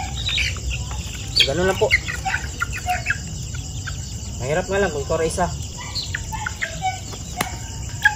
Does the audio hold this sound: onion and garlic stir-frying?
no